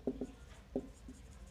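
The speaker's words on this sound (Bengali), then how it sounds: "জাবেদার আমি এখানে লিখছি" Pen writing accounting journal entries on paper, a few short quiet scratching strokes in quick bursts with gaps between them, close and faint with no talking.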